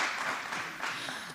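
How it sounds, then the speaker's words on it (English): An audience breaks into brief, moderately loud applause after a preschool funding announcement, a short burst of clapping with no speech over it. "Yes, I will give a round of applause for that."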